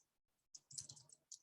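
Sparse, quiet typing on a computer keyboard: a few soft clicks come in short bursts after a brief silence, close by and faint.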